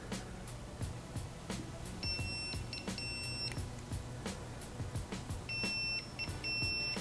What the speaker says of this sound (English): Now I'm not sure what that beeping noise is, but I assume it's just that it's setting up.